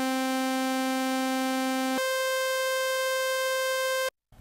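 A monophonic synthesizer in legato mode holds a bright buzzy tone, then jumps cleanly up an octave to a single new note that cuts the first off, sustained steadily before stopping abruptly.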